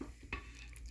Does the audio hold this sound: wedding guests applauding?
no